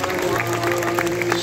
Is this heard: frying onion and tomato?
no